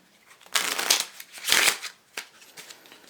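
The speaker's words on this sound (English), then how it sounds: "Why can't I ever shuffle cards properly?" Close riffling bursts of playing cards being shuffled, a few quick flurries with short pauses between them.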